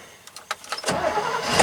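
A dump truck engine with an electric fuel pump cranks with a few separate, uneven turns, then catches and settles into a steady, loud, close idle, with no talk.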